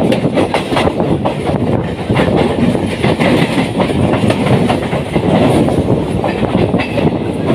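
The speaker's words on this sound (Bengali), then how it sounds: "এই পাশে এক্সপ্রেস ট্রেন যাচ্ছে" An express train heading towards Howrah passes close alongside, heard from a moving train near Santragachi, loud steady rumble with rhythmic clickety-clack of wheels over rail joints throughout, no talking.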